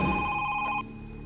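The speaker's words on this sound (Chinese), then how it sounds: "这个时候电话铃响了" A home telephone rings with a bright, steady electronic trill that cuts off abruptly partway through, leaving a quiet room behind it.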